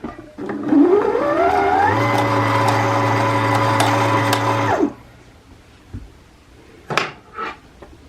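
A sewing machine winds a bobbin, run by foot pedal: a loud motor whine rises in pitch, then holds a steady hum for about three seconds before cutting off, followed by a few quiet clicks and handling knocks.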